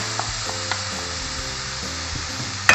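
Onion and garlic frying in oil for a coxinha filling, a continuous close sizzle with small scattered pops and a sharp louder crackle at the very end, no voices.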